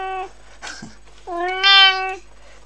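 A small kitten meows loudly and close, two clear harmonic calls, one short at the start and a longer drawn-out one, with a brief soft sound between them.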